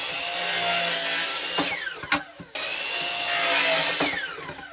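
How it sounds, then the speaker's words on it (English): A miter saw whines at a steady pitch while slicing through a 12-inch melamine board, winding down partway through, then biting into a second loud cut, close up with no talking. "I have the miter saw here, so I'm going to use it."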